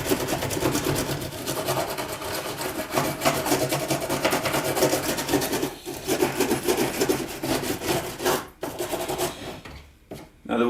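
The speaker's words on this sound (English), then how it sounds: "I'm just going to get a stiff brush and rub over all of the joins to remove that." A stiff brush scrubs back and forth over the soldered lead joins of a leaded stained glass window, giving a steady, close, rasping rub that briefly pauses near the end.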